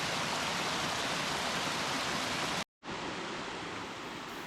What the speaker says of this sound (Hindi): इस तरह के पानी के झरने यहाँ की खूबसूरती में बहुत ज़्यादा इजाफा भी करते हैं।